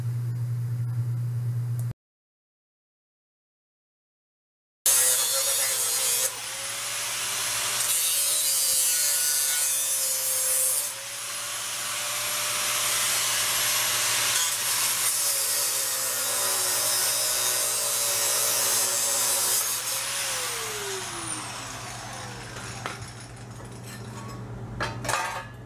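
Cutting the steel casings off automotive catalytic converters to recover platinum, a loud, continuous grinding and sawing rasp of a cutting tool biting metal, with shifting pitch and a brief silent gap early on.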